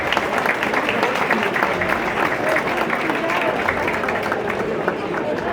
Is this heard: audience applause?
yes